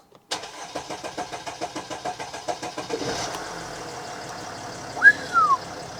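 A Mercedes ML diesel engine cranks in a rapid rhythmic chug for about three seconds, catches and settles into a rough idle, with a short high squeal rising and falling near the end.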